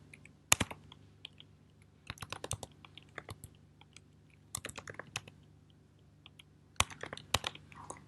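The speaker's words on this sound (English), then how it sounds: "And then they can type in their answers here" Answers being typed on a computer keyboard, with sparse bursts of close, crisp key clicks separated by short pauses against a quiet low hum.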